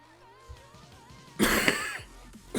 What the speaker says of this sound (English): This cough is killing me right now.